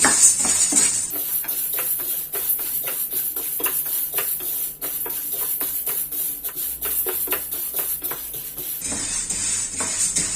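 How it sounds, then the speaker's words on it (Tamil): Green moong beans being dry roasted in a pan on a stove, giving a steady rustle of dry beans stirred and scraped against the metal with dense clicks and shuffles, close and fairly loud, with no talking. "இப்போ நம்ம வறுத்துப்போம். ஸ்லோலே வச்சு வறுத்துக்குங்க."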